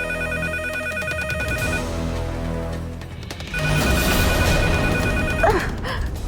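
A landline telephone rings with a repeated electronic trill that plays steadily under a dramatic music score, loud and close, with a sharp gasp near the end.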